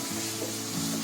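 Misal gravy sautés over a full gas flame, giving a steady, close hiss of sizzling oil with faint stirring scrapes and no talk.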